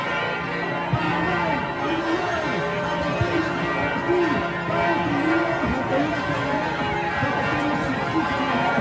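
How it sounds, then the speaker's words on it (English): Church bells ring in Washington, D.C. in support of a street protest, their tones sounding repeatedly under a noisy crowd and overlapping voices. "Here you have churches in Washington, D.C. ringing their bells in support of the protest, as Jason writes."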